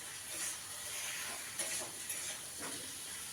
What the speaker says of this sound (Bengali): সর্ষে ফোড়ন দিয়েছি আর কাঁচা লঙ্কা